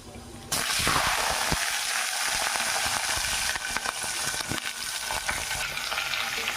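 Eggplant pieces hit hot oil in a pan already holding mustard seeds, cumin and curry leaves, setting off a loud, steady sizzle that continues throughout, with faint stirring clinks and a voice speaking over it.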